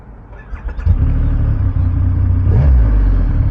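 A Triumph Rocket 3 GT cruiser motorcycle with stock exhaust starts up close by, catching after a brief crank and settling into a loud, deep, steady idle rumble with a quick blip of revs near the end.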